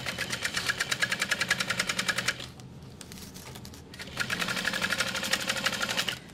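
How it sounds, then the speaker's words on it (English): A sewing machine stitches close beside the stabilizer to close a zippered slip pocket on a bag, running in two loud, fast, rhythmic bursts separated by a brief pause, with no talking. "Don't sew through it, just sew right next to it."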